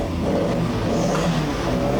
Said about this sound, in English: You can hear those revs starting to rise in the cars around me.